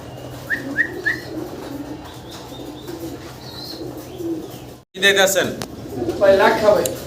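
A pair of pigeons for sale at a market stall coos softly in a few short repeated calls amid background chatter, followed by louder nearby talking and rustling.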